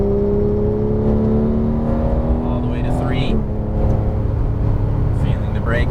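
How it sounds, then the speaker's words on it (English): A Porsche 911 GT3 (991) on a racetrack runs a loud, sustained engine note that shifts pitch sharply as it downshifts midway, with faint tire chirps and the steady roar of the car around it. "You can downshift again, Nick."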